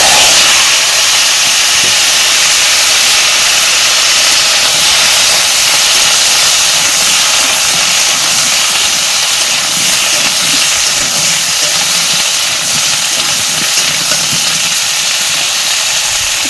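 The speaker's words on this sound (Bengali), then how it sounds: "তো তেলটা গরম হয়ে গেছে, তো চলো পটলটা দিয়ে দিই।" Pointed gourd (potol) fries in hot oil in a wok, giving a loud, steady sizzling hiss that fills the whole stretch without letting up, with no voices.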